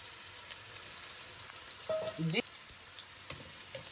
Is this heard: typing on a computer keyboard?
no